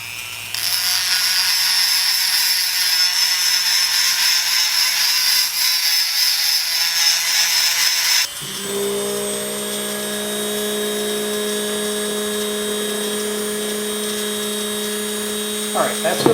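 Power tool grinding the center of an epoxy-coated part, a loud, steady high-pitched whine that drops in pitch midway as the load changes and keeps going throughout.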